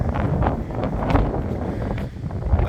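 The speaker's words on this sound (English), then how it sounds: "Sorry if it's a bit windy and you can't hear me that well" Strong wind buffets the microphone outdoors at Rye, East Sussex, a loud, continuous low rumble with gusty surges throughout and no voices.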